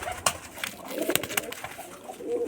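Rajshahi Giribaz pigeons coo softly and repeatedly at close range, with a few wing flutters or rustles among the calls and no speech.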